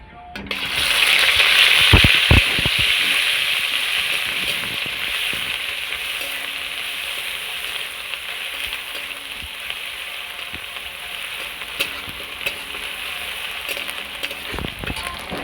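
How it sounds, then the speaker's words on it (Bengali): Onion paste sizzles in hot oil in a wok with a loud initial hiss that settles into a steady crackling fry, with a few clinks of a utensil. "কড়াইতে তেল দিয়ে দেওয়া হয়েছে। এরপর প্রথমে দিয়ে দেওয়া হবে পেঁয়াজ বাটা।"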